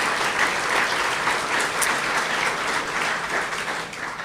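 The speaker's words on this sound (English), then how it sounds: "Please give them a round of applause." Loud, sustained applause from a crowd at an awards and sports hall of fame induction ceremony, a thick continuous roar of many hands clapping at once with no break.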